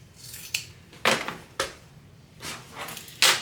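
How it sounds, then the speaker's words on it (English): Scissors snip through a fabric seam allowance on a sewing project, giving six crisp, close cuts spaced roughly half a second apart, each a sharp metallic snap over a quiet room with no talk. "Okay, now we're going to just trim the seam allowance of the exterior tab only."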